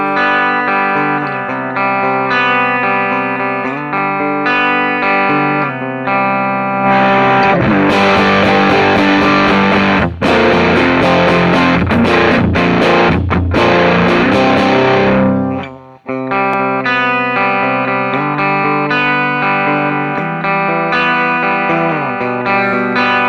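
Lollygagger FX Canaglia guitar pedal with gain at maximum, a heavily distorted, saturated electric guitar playing chords loud and dense, swelling into a thick wall of fuzz midway before settling back to cleaner sustained notes.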